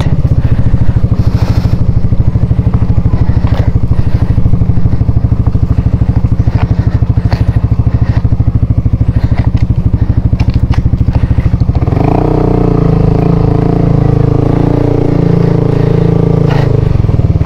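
A motorbike that is not a sport model rumbles steadily along a rough trail toward a waterfall, its engine loud and close with clatter and scraping from the terrain, the note shifting lower near the end.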